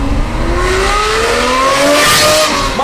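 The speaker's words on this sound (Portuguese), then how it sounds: "você não entrou nesse vídeo para escutar o escapamento no modo civil" Ferrari GT exhaust in its quieter civil mode, a loud continuous engine note with rising revs and pitch sweeps as the car accelerates, steady and close with no talking.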